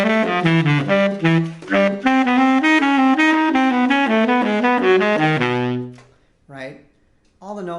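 A baritone saxophone plays a jazz etude as a steady run of notes with even, flat, monotone phrasing, then pauses before a couple of brief notes resume.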